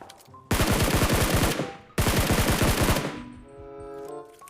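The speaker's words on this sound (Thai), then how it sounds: "โดนด้าน ขวายิงมานะครับ" Rapid automatic gunfire from enemies in the PUBG Mobile battle royale game rattles out in two loud, close bursts of about a second and a half each, the second trailing into a ringing decay.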